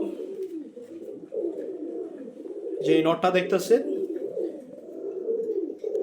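Pigeons coo in a low, steady rolling murmur, with a short burst of wing flapping or scuffling in the middle and someone talking over them.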